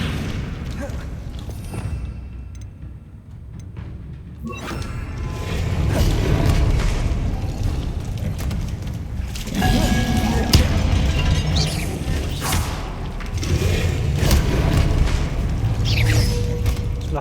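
Spell blasts from the confringo fire spell in Hogwarts Legacy, combat in a video game: repeated booming impacts and mechanical clatter in bursts after a quiet opening, with a voice talking over the action.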